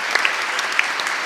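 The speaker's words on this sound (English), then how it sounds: "Cool, applause for Jetmap." A conference audience at a startup pitching event applauds in a short, dense burst of clapping, steady and fairly loud throughout.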